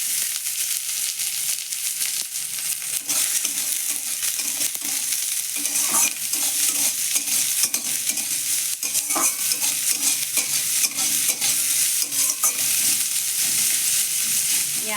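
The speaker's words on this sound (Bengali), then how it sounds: "পেঁয়াজটাকে আরেকটু লাল লাল করে আমি ভেজে নেব।" Chopped onions frying with mustard seeds and cumin in a pan, a continuous loud sizzle with occasional stirring scrapes across the whole stretch.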